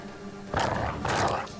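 A dog on a crowded video game battlefield yelps and growls as it is killed, two loud close bursts of snarling noise in quick succession.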